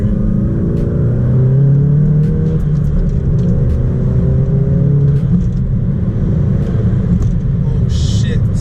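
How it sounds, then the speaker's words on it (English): A VW MK7.5 GTI with a CTS turbo muffler delete pulls hard, its engine droning loud and continuous from inside the cabin as revs climb, with a brief whooshing turbo hiss near the end. "CTS turbo muffler delete gives the car a little bit more sound"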